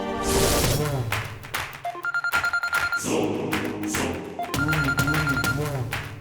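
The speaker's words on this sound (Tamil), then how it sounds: "யாரு ஃபோன் பண்றா?" A telephone rings in a Tamil television drama scene, sounding as a steady, loud repeating electronic ring pattern with a music score and a voice under it.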